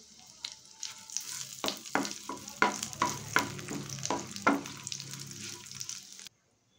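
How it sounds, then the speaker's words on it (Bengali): Dried red chillies, whole cumin seeds and bay leaves sizzle hard in hot oil for a Bengali vegetable dal tempering, with a steady crackling hiss broken by sharp spatters and repeated scraping stirs, close and alone. "এবার এর মধ্যে দিয়ে দিচ্ছি 2টো শুকনো লঙ্কা, গোটা জিরে আর তেজপাতা। এটা ভালো করে একটু পোড়া হতে দেবো।"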